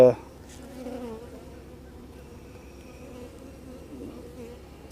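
Honeybees hum steadily around a hive, a soft continuous buzz close by after a brief louder sound at the start, with no talking.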